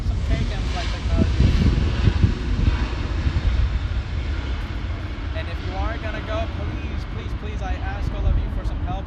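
An airliner passes overhead near LAX at Airplane Landing Viewpoint on Sepulveda and Lincoln, its loud jet roar strongest early and then easing off, with wind buffeting the microphone and faint birds chirping.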